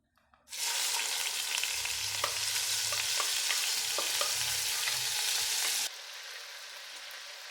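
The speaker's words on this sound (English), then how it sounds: "As you can see, the oil is now starting to bubble. I'm going to add in the onions." Onions dropped into hot bubbling oil for beef karahi burst into a loud, dense sizzle close up, crackling steadily with occasional pops, then ease to a slightly softer, even hiss near the end.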